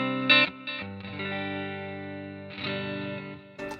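Electric guitar through a Positive Grid Spark amp with treble boosted and bass cut on the EQ, ringing out a few sustained, lightly distorted chords with chorus-like shimmer, played alone at moderate volume.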